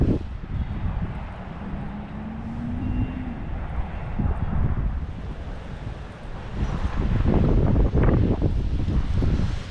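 Wind gusting across a pond during late-winter bass fishing, a rough, rumbling buffet of wind noise that swells louder toward the end, near and without speech.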